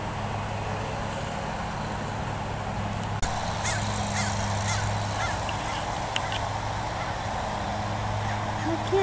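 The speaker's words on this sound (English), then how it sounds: "he saw this group of Canada geese fly in" Canada geese honking at a distance over a field, faint scattered calls against a steady low background hum, with no one talking over them.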